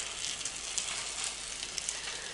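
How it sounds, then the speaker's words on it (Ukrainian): Egg-dipped bendery, meat-filled pancakes, laid seam-side down in a hot frying pan, giving a steady, even sizzle and crackle with small pops throughout, close and moderately loud, with no talk. "І викладаємо на сковорідку швом вниз."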